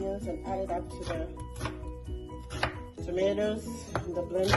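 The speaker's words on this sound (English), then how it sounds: "I'll cut the onions and add it up to the" Quick, close knife chops through onions for a Ghanaian beef stew, a dense run of sharp taps against a board with light clinks of kitchenware, and a voice speaking faintly beneath.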